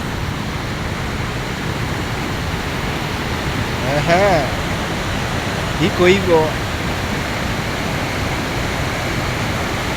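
Waterfall water at Moranga rushes in a steady, unbroken roar that fills the whole scene, with short bursts of voices talking over it partway through.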